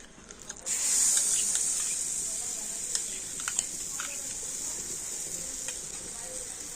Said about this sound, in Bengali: এবার আমি কড়াতে দিয়ে দেবো তালের পাল্প